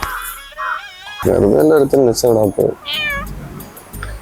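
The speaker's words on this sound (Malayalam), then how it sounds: "ഇത് ഏതാ ഈ പൂച്ച?" A cat meows loudly and repeatedly up close, several drawn-out cries in quick succession, with a voice speaking around them.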